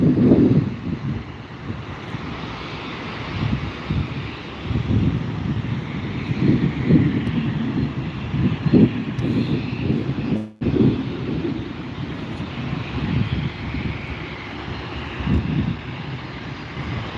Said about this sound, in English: Next up here for takeoff, we have another landing here.